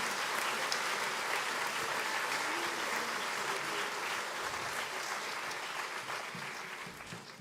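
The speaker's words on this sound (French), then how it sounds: "Eh bien, on peut les applaudir encore très fort." Sustained audience applause at a New Year's concert in Marly, a dense continuous roar of many hands clapping that stays steady and slowly fades toward the end.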